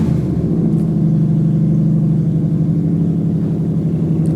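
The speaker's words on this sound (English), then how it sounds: "My neighbor doesn't have a muffler on his truck, and he has a big truck" A big truck running without a muffler idles and rumbles nearby, a loud, throbbing low engine note holding steady throughout with no voices.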